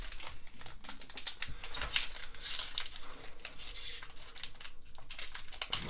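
A 2020 Playoff football card fat pack being torn open, faint close crinkling and rapid papery ripping clicks in quick bursts, no talking.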